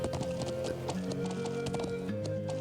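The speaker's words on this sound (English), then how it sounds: "Horse riding." Quick, rhythmic hoofbeats of a horse being ridden in the video game Trails of Cold Steel, clip-clopping steadily over game music and ambient tones.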